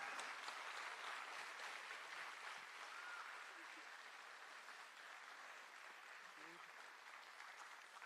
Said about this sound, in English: join in applauding her once more